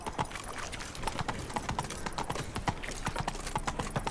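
Roach, the horse in The Witcher 3: Wild Hunt, gallops with quick, steady, heavy hoofbeats pounding in a close, driving rhythm that continues without a break, with no voices over it.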